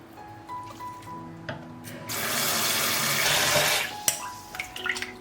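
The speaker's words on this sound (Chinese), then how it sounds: "我们来清洗干净。" Grass carp fish skins are rinsed and washed under running tap water in a sink, a steady close splashing flow with light rubbing and handling clatter before and after.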